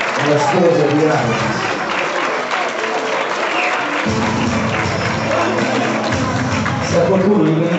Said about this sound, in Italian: Facciamo un applauso alla sposa di Rani.